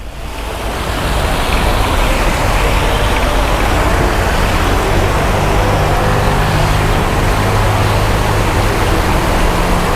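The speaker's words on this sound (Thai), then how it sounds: "เราก็จะได้ยินเสียงน้ำตกหลายจุดเลย" Water features and several small waterfalls at a roadside coffee shop in Chiang Mai pour in a constant, loud, close rush of splashing water that swells in after a brief quieter start, with no voices.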